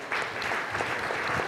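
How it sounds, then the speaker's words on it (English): An audience at a conference in a hotel bursts into applause, a dense, steady clatter of many hands clapping close by that fills the short moment without pause. "I think we should give them a big round of applause."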